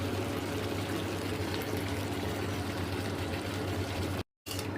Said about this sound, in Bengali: সেহেতু আমি ঝোলটা একটু বেশিই দিলাম